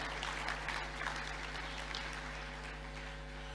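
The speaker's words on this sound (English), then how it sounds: "The Secretary General of the Commonwealth. Please, shall we applaud her again?" An awards-gala audience applauds the Commonwealth Secretary General, moderately distant clapping over a steady electrical hum, tapering slightly toward the end.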